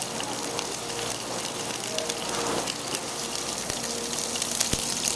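Peeled, deveined shrimp sizzle spaced out in a paella pan, a steady loud hiss and crackle of frying throughout with occasional sharper pops, no talking.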